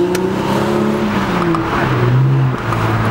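A car's exhaust revs and drones at a casual cars-and-coffee style meet, engine tones rising and falling steadily and close by for a few seconds, with no talk over it.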